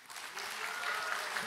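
Audience applause at a Democratic Party 70th anniversary ceremony in Korea, a brief burst of many hands clapping that swells after a soft start and holds steady.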